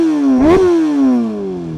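A Honda CBR 600 with a cable throttle blips its engine once, a loud close rev that rises sharply and then winds back down to a steady idle.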